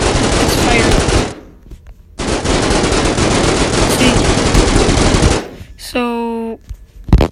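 Gun turret in the Simple Planes game firing continuously in long, loud bursts, a brief pause between them, then a rising electronic tone near the end; no talk over it.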